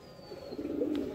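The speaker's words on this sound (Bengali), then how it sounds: "অসাধারণ পায়রা এই দুটো" Two Andhra pigeons coo softly at close range in a short, low, rolling call, with no talk over it.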